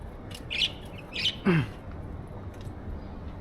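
Parrots squawk from the trees in a few short, harsh calls, three bursts within about a second and a half, heard at moderate distance over quiet outdoor background noise.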